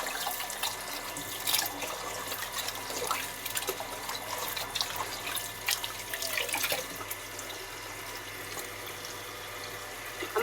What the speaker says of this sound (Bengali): আমার মাছ ধোয়া সুন্দর করে পরিষ্কার করে নিলাম।